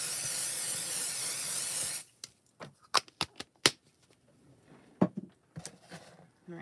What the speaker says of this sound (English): spray that one, and I might as well spray the other one